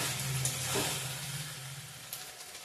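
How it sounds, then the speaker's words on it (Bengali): Chicken and potatoes sauté in a pan for a curry, a soft steady sizzle with faint stirring scrapes, low and close, with no voices. "ভালো করে কষিয়ে নেব।"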